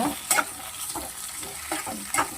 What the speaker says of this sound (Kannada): ಈ ಥರ ಆಯಿಲಲ್ಲಿ ಫ್ರೈ ಮಾಡ್ಕೊಳ್ಬೇಕು. ಬೆಂಡೆಕಾಯಿ ಸ್ವಲ್ಪ ಅಂಟಂಟು ಹೋಗೋ ಥರ.